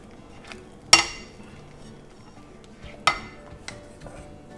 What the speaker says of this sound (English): you have to keep stirring it until it gets that solidified stage again